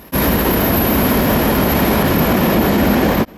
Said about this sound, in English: With nearly 400 axles of train, 202 disappears at a Deerfield Beach